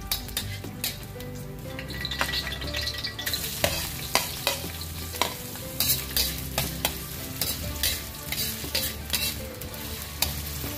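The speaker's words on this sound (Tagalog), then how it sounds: "painit tayo ng mantika. Gisa na natin." Garlic sautés in hot cooking oil for linarang, a continuous close sizzle broken by frequent rhythmic scrapes and clinks of a metal spatula against the pan.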